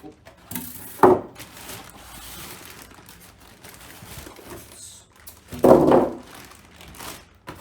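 Packaging around a Thermaltake Tower 100 PC case part is unwrapped, with two brief, close crinkling bursts and soft rustling between them, and no speech.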